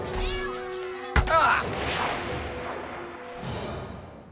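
A kitten meows in a South Park video game while being struck: a sharp hit lands, then rising, wavering mewls follow over busy game noise and music.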